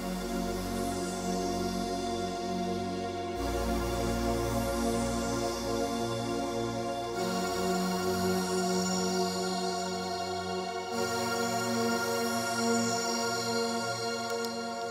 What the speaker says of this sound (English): So I started with pads because I wanted a sustained chord to be held.